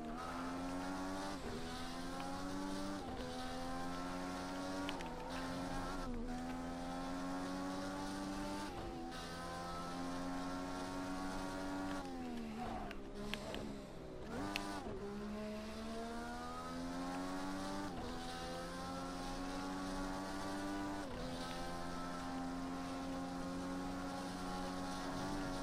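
An Indy car engine screams at full throttle in Project Cars 2 at Road America, a loud sustained high-revving whine that rises and drops sharply with each gear change and braking point over steady wind noise.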